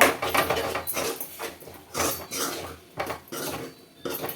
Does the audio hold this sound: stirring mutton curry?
yes